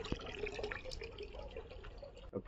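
Water poured out of a bucket, a steady close splashing gush running for a couple of seconds with no talk.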